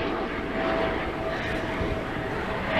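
Helicopters fly over a garden in late April, giving a steady, fairly loud engine drone that fills the whole stretch without clear breaks.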